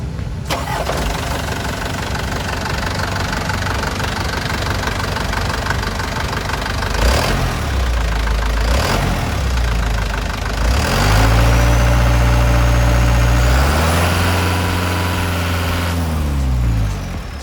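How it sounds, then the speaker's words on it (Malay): A Mitsubishi Fuso Canter truck's 4D34 diesel engine runs steadily at idle with a rough, clattering knock, loud and close, with a couple of brief revs partway through. "ini ialah bunyi enjin untuk enjin 4D34 yang pakai sistem tali"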